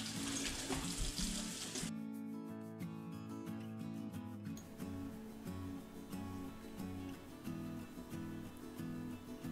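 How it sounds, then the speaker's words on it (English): Running tap water pours steadily into a sink being cleaned, a broad rushing wash at first, then dropping to a quieter trickle with a low rhythmic hum beneath it. "the most important thing you must do now is clean the sink"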